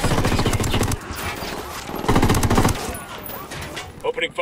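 Rapid automatic gunfire in Ghost Recon Wildlands crackles in loud bursts, with a short pause before another heavy volley and scattered shots at the end.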